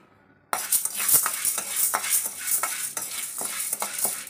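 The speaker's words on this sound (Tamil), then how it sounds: "இந்த கடலைப்பருப்பையும் பொன்னிறமாக வறுத்து எடுத்துக்கணும்." Chana dal roasting in a pan while being stirred, a steady close rattling, scraping churn of lentils against metal with faint sizzle, continuous after a brief quiet start, no voices.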